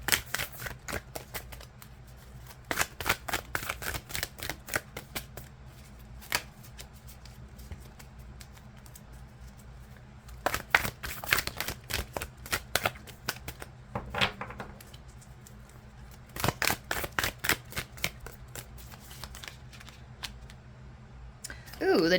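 Tarot cards shuffled by hand in repeated bursts of crisp riffling and flicking, close and fairly loud, with brief pauses between shuffles and a low steady background hum.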